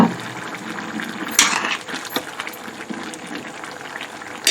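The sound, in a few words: potato chickpea curry simmering in pot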